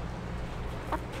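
A hen with a respiratory infection gives a single short cluck near the end, close and fairly clear against a low steady background hum.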